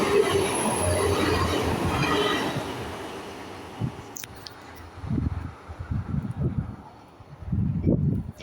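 UK Class 802 train passing a level crossing, loud and close at first with squealing wheels and rumble, then fading into intermittent clunks and rail noise as it moves away.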